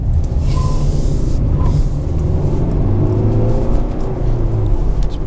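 A 2015 Mercedes-Benz C 220 CDI diesel cruising on an open road, a steady low engine drone and tyre rumble close inside the cabin, with no talk.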